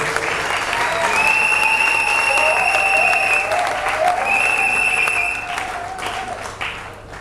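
Loud, sustained applause and cheering from a party crowd at a political investiture in Kisangani, with whistles and voices rising over dense clapping before it tapers off.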